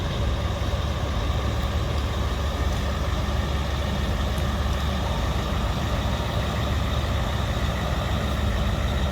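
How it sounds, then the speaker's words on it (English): A pusher truck backing a massive heavy transport on a steep grade gives a steady, dense engine rumble, loud and continuous for the whole stretch, with no voices. "the pusher truck in support in the back"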